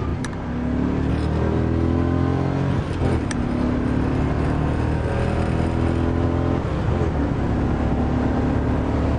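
A car launching hard from the line at a drag strip, its engine held at steady high revs with a continuous loud, droning exhaust note throughout.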